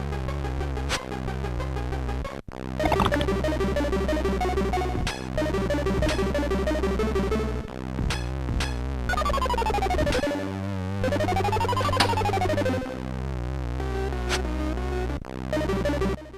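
Music from L'Abbaye des Morts in its Commodore 64 simulation plays on its own, buzzy pulse-wave melodies over a droning bass with sweeping pitch slides and one short drop partway through.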